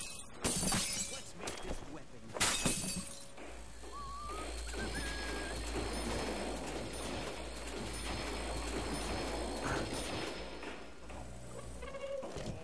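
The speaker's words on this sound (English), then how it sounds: "I knocked a piece of glass away" Glass shatters loudly in Call of Duty Zombies, a sharp crash with scattering fragments, followed by a steady low game drone and ambient rumble.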